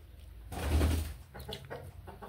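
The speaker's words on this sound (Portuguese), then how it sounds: "A galinha que tá ali botando ovo, né?" A hen laying an egg clucks in a few nervous calls near a table, following a loud close thump of handling noise and low rumble.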